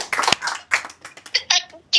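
Hand clapping heard through a phone call after a lucky-draw bike win, a few uneven claps mixed with speech, thin and somewhat muffled by the line.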